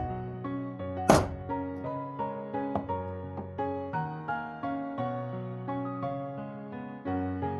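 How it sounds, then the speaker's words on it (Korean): Center punch struck once on a marked point of a metal workpiece, a single sharp, close metallic tap early on, with soft piano-like background music playing throughout. "마킹된 교차점에 센터 펀치를 사용하여 확실하게 타점을 찍어줍니다."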